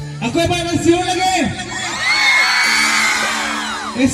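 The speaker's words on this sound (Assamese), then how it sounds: "আকৌ এবাৰ চিঞৰ লাগে" A crowd at a school foundation-day Bhogali night celebration shouts and whoops together, rising after a brief call into a loud, sustained collective yell that carries to the end.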